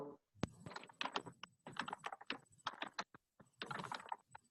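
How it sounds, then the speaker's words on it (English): Computer keyboard typing over a remote meeting line, rapid irregular clusters of key clicks in bursts with short pauses, fairly close and clear, no talk. "I could hear you typing really clearly"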